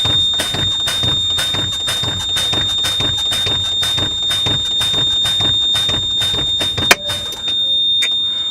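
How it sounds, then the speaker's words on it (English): Low air pressure warning in a truck cab while the brakes are pumped down during a CDL pre-trip check, a loud steady electronic tone with a fast pulsing beep pattern that sounds continuously, close, with a brief thump near the end. "low air alarm comes on"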